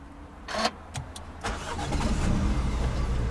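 A 2019 MINI Cooper with keyless push-button start cranks and fires up, followed by a steady idle. A few short clicks come first, then the engine catches close by and settles into a continuous rumble.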